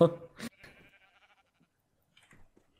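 A Minecraft modpack sheep lets out a short bleat, then a thin, fading wavering bleat near a person talking, and a few faint sounds follow.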